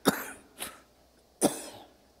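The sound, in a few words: preacher coughing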